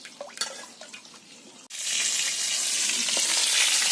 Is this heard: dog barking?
no